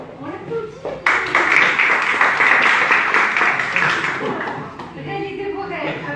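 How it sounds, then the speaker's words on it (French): People in the audience of a public-speaking workshop burst into clapping for a quiz winner, a sudden loud round of applause that fades after a few seconds, with voices talking over it before and after. "Yes, on applaudit."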